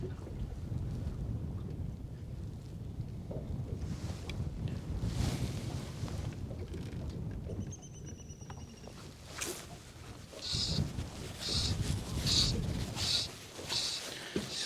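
Wind gusts across an open fishing spot, a steady broad rush that swells and buffets the microphone, with a brief higher whistle partway and sharper rustling bursts near the end.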